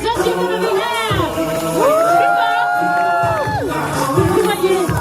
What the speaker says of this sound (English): Un tonnerre d'applaudissements pour nos Matadancers. Let's give them a big hand.